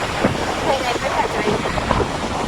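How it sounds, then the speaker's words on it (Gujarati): Wind and sea surf roar at Porbandar Chowpatty beach, a steady broadband rush close to the microphone with people talking over it. "જોરદાર દરિયો છે."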